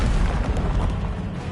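Incendio fire spell from the Hogwarts Legacy video game, a dense, booming burst of flame that rumbles steadily and loudly for a second and a half, heavy in the low end.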